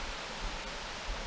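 A big man-made waterfall on a walk in the Peak District gives off a steady, faint rushing wash of water, heard from a distance with no voices.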